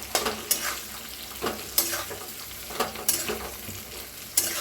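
Roasted chillies being stirred with leftover masala in a hot pan: a run of scraping strokes, about eight of them, sounds close over a soft sizzle, with no talking.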